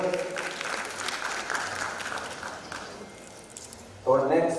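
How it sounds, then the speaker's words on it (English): Audience at a youth innovation expo claps for a speaker, a dense burst of applause at moderate distance that slowly fades, with a voice coming in near the end. "Round of applause, ladies and gentlemen."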